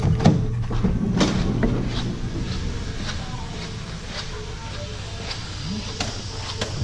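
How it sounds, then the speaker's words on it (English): Power lift gate on a 2016 Honda Odyssey closing: a steady motorized whir and mechanical clunks at close range, ending with faint latch clicks, with no talking. "Alright, nice and slow coming down. Let's go ahead and shut this door."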